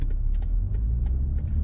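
A BMW X5 SUV floored in comfort mode, its engine giving a steady, loud low rumble from inside the cabin with no speech.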